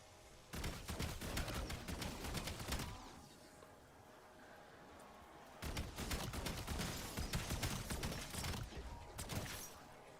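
Rapid pistol gunfire in Call of Duty Black Ops 7 Zombies, with dense bursts of close, loud shots in two stretches separated by a quieter gap of game ambience.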